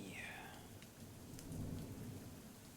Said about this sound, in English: listening to the sounds of the downpour and the echoing thunder around us